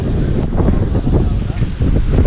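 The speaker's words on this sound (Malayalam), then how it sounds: "ഭയങ്കര കാറ്റും മഴയും ഇതുവരെ ഇല്ലാത്ത രീതിയിലുള്ള കാറ്റും മഴയൊക്കെയാണ് ഇന്നിവിടെ ഉള്ളത്" Strong wind blows across a beach during heavy wind and rain, a loud, continuous roar buffeting the microphone from start to end, with no clear pauses.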